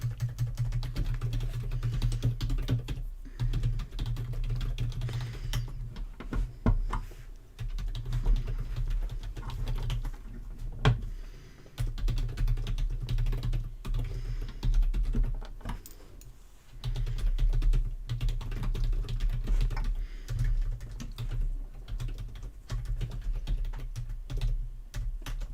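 Continuous typing on a computer keyboard, rapid irregular key clicks close by over a low room hum, with brief pauses between bursts.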